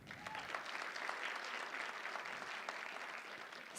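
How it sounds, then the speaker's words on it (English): An audience at a spring public health master's degree hooding ceremony gives graduating students a round of applause: continuous, even clapping from many hands that fills the room at moderate volume. "we'll give them a round of applause"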